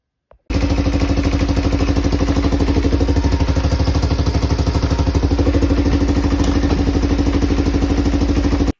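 Polaris Magnum 425 ATV engine starts and runs with a steady, loud, close-up chugging idle, with rapid even clatter throughout and no voices.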